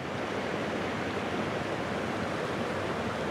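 Water pours down steadily into a tiny puddle outdoors in Italy, making a constant close hiss and splash with no breaks.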